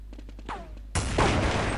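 Counter-Strike gunfire, a quick burst of clipped shots followed by a loud sustained volley of rifle fire, close and dense.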